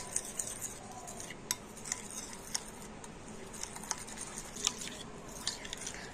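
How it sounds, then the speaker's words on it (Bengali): A metal spoon clinks and scrapes steadily against a bowl or cup while powdered milk is stirred into milk, soft repeated taps with small scraping sounds in between, close and fairly quiet, with no talking. "দিয়ে গুঁড়ো দুধটা একটু ভালো করে গুলে নেব।"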